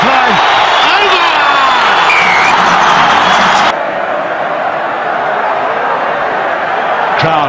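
A packed rugby stadium crowd roars after Morne Steyn's successful kick, a loud, sustained wall of cheering and whooping that fills the space, then eases slightly partway through while staying dense to the end.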